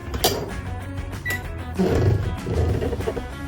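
An electric rice cooker, loaded with rice, mushrooms, baby cabbage and salmon fillet, gives a single short beep as its start button is pressed, amid clattering kitchen noise.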